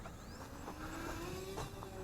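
An Eachine Mirage E500 VTOL RC airplane lifts off vertically, its electric motors holding a steady, continuous whine that rises gradually in pitch, close and alone with no talk.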